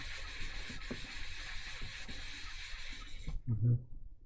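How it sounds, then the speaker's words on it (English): A small stone seal is rubbed gently on very fine sandpaper, giving a soft steady scratchy hiss with a slow rhythmic back-and-forth for about three seconds before it stops, followed by a faint handling knock. "just gently with a very fine sandpaper"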